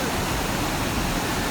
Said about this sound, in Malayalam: വെള്ളം ഒഴുകി വരുന്നുണ്ട്.